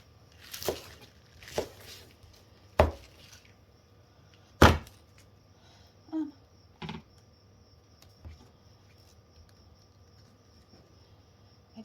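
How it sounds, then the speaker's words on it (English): Spinach rough-chopped with a knife on a board, about eight sparse, separate thuds spaced a second or two apart, close and fairly quiet against a low background hum. "Then I'm just going to rough chop"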